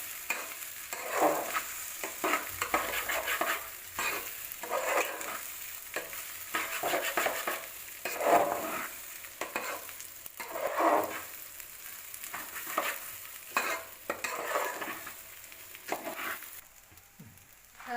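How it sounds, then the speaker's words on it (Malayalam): A spoon scrapes and stirs steadily through rice sautéing in a pot for beef dum biryani, a continuous frying hiss with rhythmic scraping strokes, no talking. "നമ്മുടെ റൈസ് ഒരു 5 മിനിറ്റ് നമ്മളൊന്ന് വഴറ്റിയെടുത്തിട്ടുണ്ട്"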